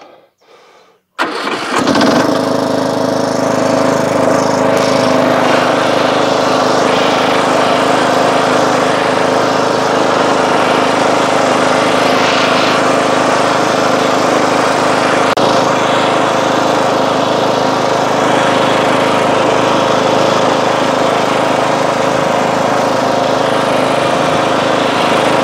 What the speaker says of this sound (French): Et comme on est feignant, on amène ça au broyeur en tracteur.